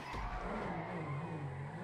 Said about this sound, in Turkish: Bence çok güzel drift attım ama araba yavaşladı.